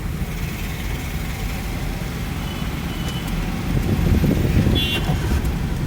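A learner driver starts a car engine during a driving lesson in traffic. A low, steady motor rumble swells slightly partway through and stays fairly quiet, with no talking.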